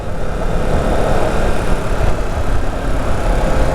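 A 2022 Yamaha R7 motorcycle engine hums steadily while riding in Sydney, a continuous, even drone mixed with broad wind rush, with no clear revving changes.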